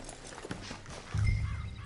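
Horses in the Western game Red Dead Redemption 2, with hoof clip-clops and a snort or low whinny at close range, ending in a louder low rumble of movement. No one speaks.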